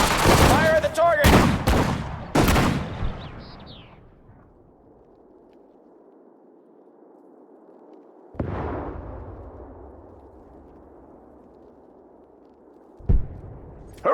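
Battle gunfire in the WWII strategy game Sudden Strike 4 comes as several sharp, loud shots and blasts at the start, then a distant booming report with a long fading echo and one more crack near the end.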